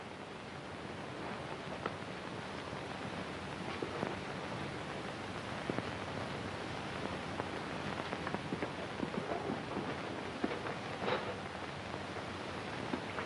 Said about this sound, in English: The rain ought to let up soon.